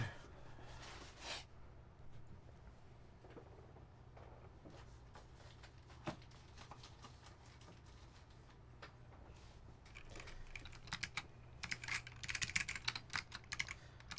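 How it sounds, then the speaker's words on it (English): Rapid clicky typing on a mechanical keyboard fitted with Matthias Click Alps-clone switches and Matthias white blank keycaps, steady close-up key clatter that grows busier and louder toward the end, with no talking. "this is Matthias Clicky, like Alps clones with the Matthias white blanks"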